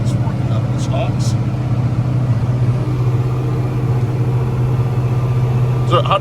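A Massey Ferguson 4900 tractor with a Cummins V8 engine runs steadily while pulling a Krause disc through stalks, its deep even drone continuous throughout, with a voice talking over it.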